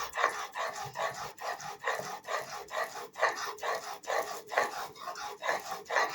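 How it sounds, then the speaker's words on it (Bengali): Coconut is ground by hand on a stone slab, a rhythmic scraping and rubbing stroke repeated roughly twice a second, close and fairly quiet. "পাটায় বেটে নিচ্ছি"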